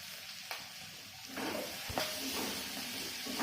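Cumin powder and red chilli powder frying in hot oil with green chillies, a steady close sizzle with stirring scrapes and a soft clatter partway through.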